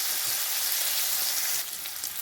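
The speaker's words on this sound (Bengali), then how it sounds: "হালকা ভেজে নেব।" Steamed radish pieces lightly frying in a pan, a steady close sizzle that thins slightly near the end, with no voices.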